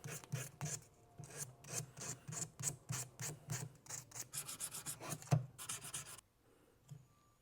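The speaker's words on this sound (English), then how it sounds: "I'm going to use some sandpaper, go over the edges of it just to knock any of the really sharp, rough edges together" Sandpaper rasps over the sharp, rough edges of a metal Element Key prop in quick, rhythmic back-and-forth strokes, close and steady, then stops abruptly near the end, leaving near silence.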